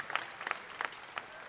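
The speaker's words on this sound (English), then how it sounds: "Let's give him a great hand." Applause from the audience at a livestock auction, the Sale of Champions at the 2025 Ohio State Fair: scattered, fairly quiet clapping with irregular bursts of claps rising and falling throughout.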